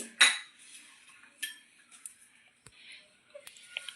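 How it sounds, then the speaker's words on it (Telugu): Metal cutlery clinks against a pot or bowl while raw chilli chicken is mixed by hand with garlic, onion, two eggs, chilli powder and ginger-garlic paste; a sharp clatter at the start, then soft scattered scrapes and taps, fairly quiet. "ఇప్పుడు చిల్లీ చికెన్ ఎలా కలపాలో చూసుకుందామండి"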